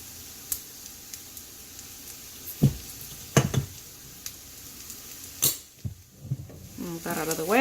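An onion topping for burgers, with a little sugar added, sizzling softly in a pan. Several sharp scraping and clinking stirs ring out, and a person talks near the end.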